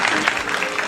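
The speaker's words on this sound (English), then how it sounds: "a nice round of applause for our 4 remaining couples" Brief burst of studio audience applause for remaining couples on a game-show-style broadcast, dense clapping heard at close range for under a second.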